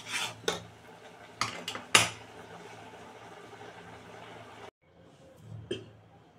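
Carrot halwa being stirred in a pan to dry it out, a spoon scraping and knocking against the pan in a few close, irregular clatters over a low background, with a short pause before a final scrape.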